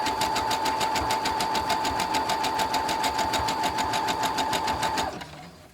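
A sewing machine runs a zigzag stitch through fray-prone fabric, its needle hammering in a fast, even mechanical rhythm for about five seconds before winding down and stopping.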